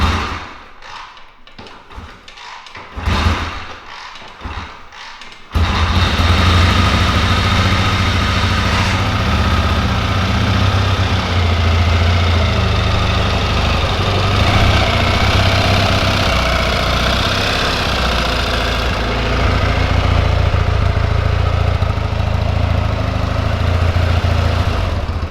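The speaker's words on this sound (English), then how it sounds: "We're going to have him hop on it and start it." A 1974 Triumph Bonneville T140V motorcycle is kicked over with a few thumps, then its engine catches and settles into a steady, loud, close idle that runs without a break.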